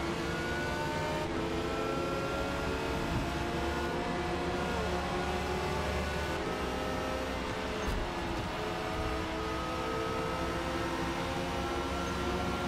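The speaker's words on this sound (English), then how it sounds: "Lots of fast cars." Fast R-class race cars, including a Porsche 911 and a McLaren, at Watkins Glen in a racing video game, with continuous engine roar and shifting revs as several cars pass close by.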